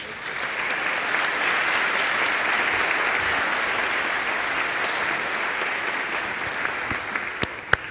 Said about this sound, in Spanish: le pido un aplauso para todos ellos